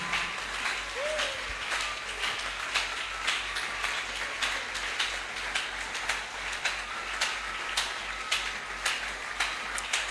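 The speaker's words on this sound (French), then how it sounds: "Acclame très bien pour la gloire du Seigneur" A church convention congregation applauding for the Lord, a steady wash of clapping with a regular beat and a few louder accents, heard at a moderate distance.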